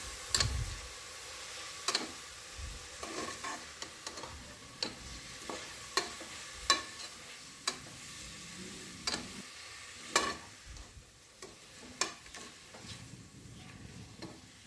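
Ingredients for mutton biryani stirred in a pan, with a soft steady sizzle under irregular sharp clicks and scrapes of a spoon against metal, fairly quiet and close.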